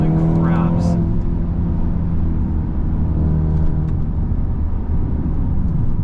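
A 2020 Mercedes-Benz A35 AMG hot hatch powers out of corners with a loud, continuous engine roar heard from inside the car, and a voice speaks over it.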